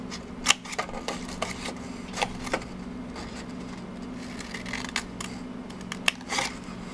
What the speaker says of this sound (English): This one's not straight, so I'm just going to cut that real quick.